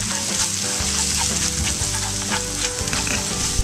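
Ground spice masala with coriander powder, turmeric and pepper sizzles and crackles loudly in a hot pan while being stirred and mixed, a dense continuous frying noise with scraping strokes and no talking.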